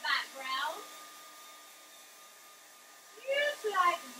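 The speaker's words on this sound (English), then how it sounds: "You're going to take your crazy hair dryer. We're going to dry off this background." A hair dryer blows on a painted background with a steady, fairly quiet whine and hum. Short bits of talk come at the start and the end.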